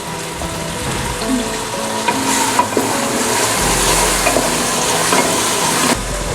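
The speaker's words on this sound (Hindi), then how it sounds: "प्याज फ्राई हो चुका है।" Onion frying in hot oil in a pan for mutton biryani, with a steady close sizzle and crackle plus occasional stirring scrapes throughout, no talking.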